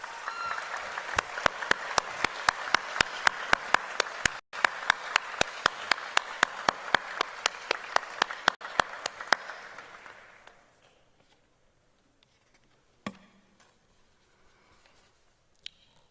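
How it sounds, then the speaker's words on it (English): Applause at a university graduation ceremony: a crowd claps steadily for about ten seconds, then it dies away into near silence with a couple of faint knocks. "A round of applause."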